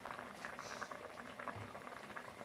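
A pot of Cebuano humba, braised pork, bubbling on the stove, giving a faint, continuous patter of small pops and gurgles at a gentle simmer.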